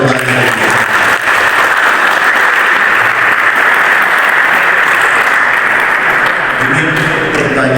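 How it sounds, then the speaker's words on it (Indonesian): Sustained audience applause fills a campus event hall at a Buton villa in Baubau, loud and steady throughout, a dense wash of many hands clapping for a questioner. "Kita tepuk tangan kepada yang pertanyaan."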